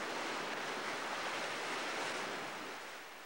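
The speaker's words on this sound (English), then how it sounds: "The waves wash it up on the beach." Ocean waves wash onto a sandy beach as a steady broadband roar of surf, faint and continuous, easing slightly at the end.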